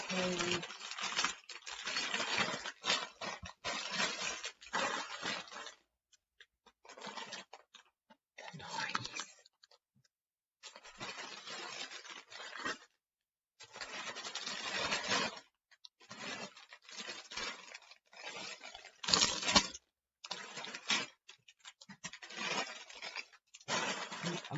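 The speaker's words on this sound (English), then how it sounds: "I'm not going to try and talk over the rattling of bags." Lego parts bags for the 1989 Batmobile set 76139 rattle and crinkle in repeated loud bursts separated by short pauses, a busy shuffling clatter of small plastic pieces handled up close.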